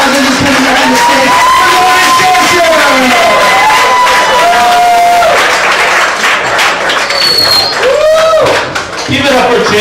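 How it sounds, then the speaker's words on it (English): Comedy club crowd at a bar's Wednesday comedy night bursts into loud, sustained applause and cheering, with whoops and shouts layered over constant clapping throughout. "Give him a warm round of applause"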